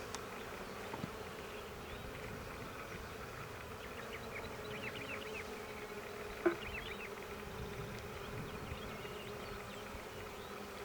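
Honey bees buzz steadily around an open beehive while frames are handled during queen rearing, a dense continuous hum with scattered nearby wingbeats and one brief knock midway.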